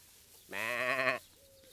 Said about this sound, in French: Un mouton? Qu'est-ce que c'est que tout ce bruit ici?